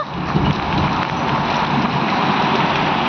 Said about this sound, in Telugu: గడ్డల వర్షం అండి. ఐస్ గడ్డలు చూసారా ఎట్లా పడుతున్నాయో